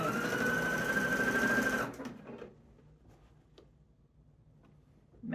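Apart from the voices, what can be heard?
sewing machine sewing quilt panels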